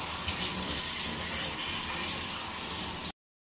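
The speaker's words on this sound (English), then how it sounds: "I'm about to go take a little shower." Hotel bathroom shower running, a steady close hiss of falling water that holds evenly for about three seconds and then cuts off abruptly, with no voices.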